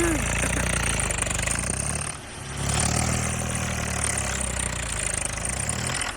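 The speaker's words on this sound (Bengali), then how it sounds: "একদম GS6 মডেলের ট্র্যাক্টর এটা বন্ধু। চলো চলো স্টার্ট।" A GS6 model tractor engine runs at a steady idle, a loud, continuous, throbbing mechanical rumble close by with a brief dip before it settles back to a constant running drone.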